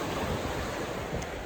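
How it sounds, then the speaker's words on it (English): Ocean waves wash steadily onto a beach at Gunn Point in the Northern Territory, a continuous broadband surf roar with wind, fairly close and uniform throughout. "I'm just watching the waves."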